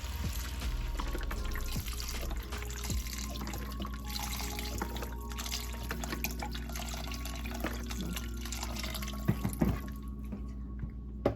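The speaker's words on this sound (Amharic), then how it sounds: "እዚህ ጋር የቬጅቴብል ስታክ ወይም ደግሞ የቬጅቴብል መረቅ አለ። እሱን አደርግበታለሁ።" Vegetable stock is poured into a pot of Ethiopian chickpea soup, giving a soft, steady liquid trickle with small drips and splashes, faint and close, with no talking.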